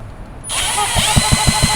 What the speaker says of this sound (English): If I use the drill,